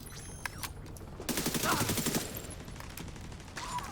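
Turret gunfire in a video game, a rapid burst of automatic shots in the middle of the clip with scattered single pops before and after, fairly close and mixed with faint game sounds.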